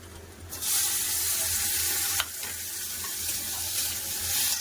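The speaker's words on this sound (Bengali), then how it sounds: "টমেটো গরমের জন্য দিয়ে দেবো লবণ আমি কম করে দিয়েছি টমেটো ভালো করে কষে দেবো" Chopped tomatoes frying with onion, green chili and salt in a pan, a loud continuous hissing sizzle that swells as they go in, with a brief clatter partway through.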